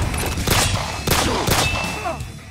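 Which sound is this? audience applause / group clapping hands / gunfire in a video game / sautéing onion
gunfire in a video game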